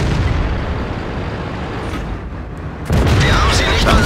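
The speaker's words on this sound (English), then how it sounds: "That was an aimed track shot" A tank cannon fires in World of Tanks, a sudden loud blast near the end that cuts through a steady engine rumble and lingers as a rough roar.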